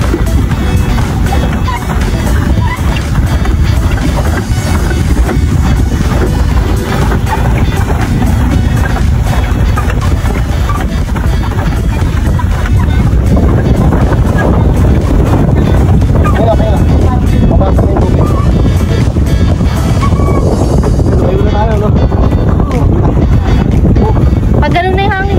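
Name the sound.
wind blowing at Natipuan beach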